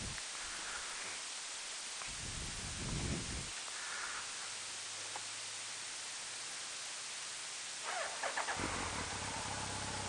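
Modified Suzuki Hayabusa motorcycle fired up: brief cranking bursts near the start, then the engine catches around the eight-second mark with a loud, rough idle rumble over steady background hiss.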